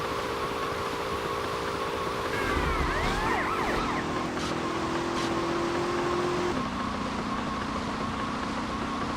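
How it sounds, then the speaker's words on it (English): Police car siren in the game GTA Vice City, a steady wailing tone rising and falling over a constant background hiss at moderate level. "Suspect in action, police car."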